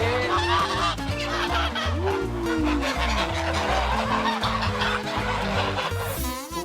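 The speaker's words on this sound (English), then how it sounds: "They took feed from our hands and were making funny honks." Geese honk loudly and repeatedly at close range while taking feed from hands, a busy chorus of nasal calls over background music-like tones, with no clear talking.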